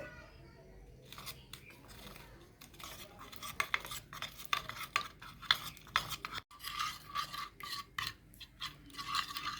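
A utensil stirs a sauce of soy sauce, tomato sauce and water in a small vessel, making a quick run of light clinks and scrapes that grows busier partway through.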